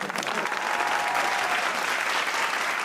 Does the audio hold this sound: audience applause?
yes